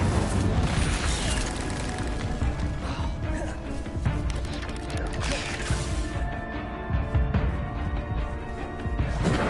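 Fire spell blasts in the Hogwarts Legacy video game, dense booming whooshes and crackling bursts layered over a loud continuous battle soundscape.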